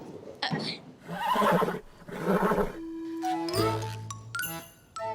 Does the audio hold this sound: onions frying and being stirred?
no